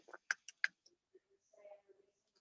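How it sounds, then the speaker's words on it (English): Keys tapped on a computer keyboard while filling in an online referral form: a few separate clicks and short bursts close by, with quiet gaps between them. "if you just start typing what it is that you want, it'll pull it up from the list"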